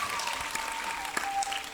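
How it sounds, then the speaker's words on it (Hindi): Audience applause at a Hindi kavi sammelan poetry recital: a short burst of steady crowd clapping, moderately distant, lasting under two seconds. "यार ताली बजाने में कंजूसी कर रहे हैं आप लोग"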